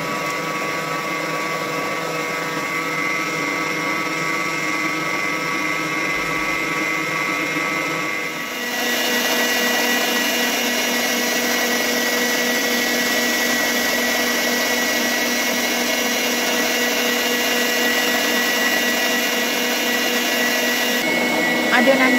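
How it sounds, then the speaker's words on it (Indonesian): An electric mixer beats shortening and sweetened condensed milk for pineapple strawberry nastar cookie dough, a steady whirring drone that runs continuously at close range and shifts slightly in pitch partway through. "kemudian kita akan kocok campuran shortening dan susu kental manisnya sampai tercampur rata"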